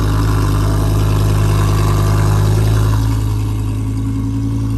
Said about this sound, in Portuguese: Olha o roncão do V10 aí, ó.